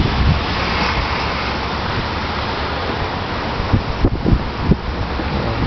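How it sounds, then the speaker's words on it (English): Strong wind gusts in New York during Hurricane Sandy with light rain, a continuous roaring rush buffeting the microphone, with a few sharper bursts near the end and no voices. "The wind gusts are definitely a little bit stronger."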